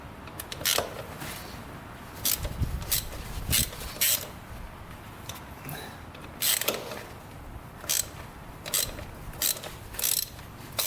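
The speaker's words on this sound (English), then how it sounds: "You have to first loosen these up right here, these 4 bolts, and then hit this back, and I'll tighten it up and then just retighten those bolts" A hand ratchet working on the four bolts of a Yamaha Raptor 700 quad, giving repeated short, close clicking bursts with brief gaps in between, with no talking.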